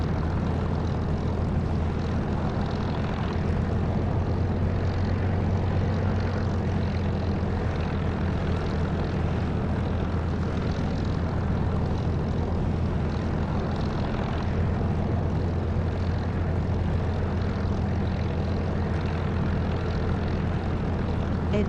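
A steady, even aircraft engine drone from the DCS flight simulator game runs without a break at moderate volume, with a low constant hum underneath.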